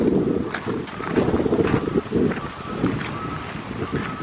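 Heavy wind buffets the microphone beside an RV during a roadside repair after an interstate tire blowout, a loud continuous low rumble with gusty swells throughout.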